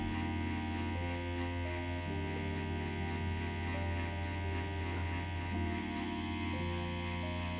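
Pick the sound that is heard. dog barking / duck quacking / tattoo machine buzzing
tattoo machine buzzing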